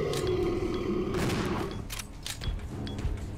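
Shotgun blasts in the Resident Evil Zero survival horror game, a few loud, close booming shots with sharp onsets amid a droning game background.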